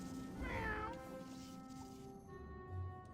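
A video game cat's meow rings out clearly over a steady background hum, followed by a softer second call, with no one talking.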